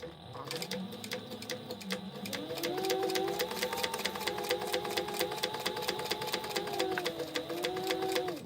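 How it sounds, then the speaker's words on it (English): A sewing machine top stitches a fabric crossbody bag 1/8 inch from the edge, producing a fast even rattle of needle strokes under a humming motor whose pitch rises and holds steady. "we're gonna top stitch down both sides with 1/8 of an inch."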